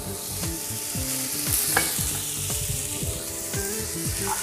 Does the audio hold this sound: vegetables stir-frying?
yes